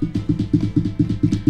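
Knuckles rap a tabletop in a steady series of around sixteen dull, low knocks, close and moderately loud, heard alone with nothing else over them.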